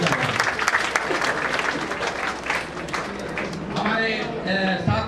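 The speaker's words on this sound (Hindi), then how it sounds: "आज हमारी तालियां इनके सम्मान में अगर जोरदार बजे" An audience at an Indian book launch event applauds to honor a guest, a dense burst of clapping heard together with talking voices.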